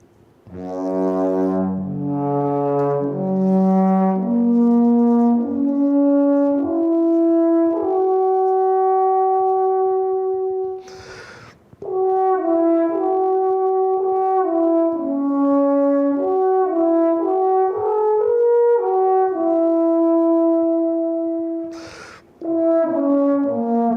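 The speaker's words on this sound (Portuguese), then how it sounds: "Esse é o som da trompa alpina" An alphorn plays a slow solo melody of sustained, mellow brass notes stepping up and down, close and loud, broken by two short breath pauses between phrases.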